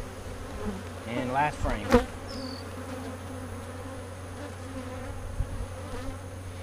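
Defensive honey bees buzzing around an opened hive after the honey harvest, a steady droning hum near and far, with a few short spoken words over it early on.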